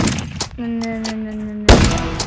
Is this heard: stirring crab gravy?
no